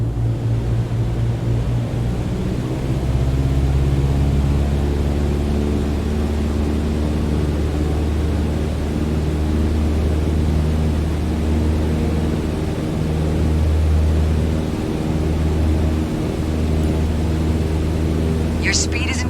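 A light aircraft engine in Microsoft Flight Simulator 2020 holds a steady, loud drone as the throttle is pushed back up toward 2400 RPM, running continuously under the scene.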